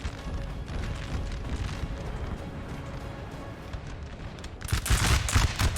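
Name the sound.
artillery and musket fire in video game Napoleon Total War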